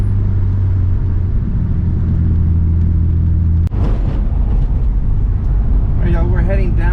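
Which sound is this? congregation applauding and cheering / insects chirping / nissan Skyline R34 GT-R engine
nissan Skyline R34 GT-R engine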